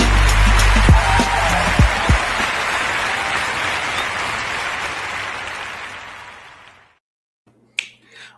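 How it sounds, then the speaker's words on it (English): A comedy game show studio crowd bursts into loud, dense applause that holds steady for several seconds, then fades out to silence, followed by a brief sharp noise. "the crowd goes wild"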